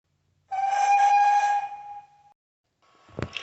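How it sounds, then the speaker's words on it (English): A railway guard's sustained, shrill whistle blast at a station lasting nearly two seconds, loud and steady, then a short sharp clatter after a pause. "the guard blew his whistle"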